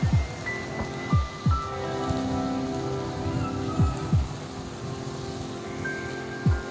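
Rain falls steadily on a flooded Karachi street, a dense even patter with louder drips and splashes recurring every second or so, close by and without talk.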